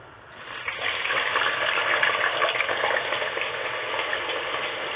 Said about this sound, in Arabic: حنا البطاطا دي غنديرو لها الطايبه الاولى، يعني نص طايبه